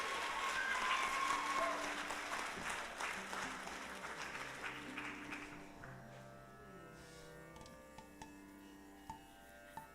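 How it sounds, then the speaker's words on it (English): Audience applause for the orchestra at a Bharatanatyam arangetram, a full burst of clapping over the first half that thins out to a few scattered claps while sustained instrument tones linger underneath. "A big round of applause again for the orchestra team."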